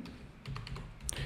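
A computer keyboard clicks as a file name is typed, a short burst of quiet, close keystrokes in an uneven rhythm with a few brief pauses.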